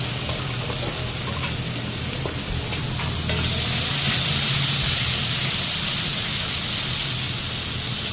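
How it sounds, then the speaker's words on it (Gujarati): Okra dropped into hot oil tempered with cloves, black pepper, red chili, asafoetida and curry leaves, hissing steadily and then swelling into a louder, sustained sizzle, close up with no talking. "સીધા પહેલા ભીંડા નાખી દેવાના તેલમાં."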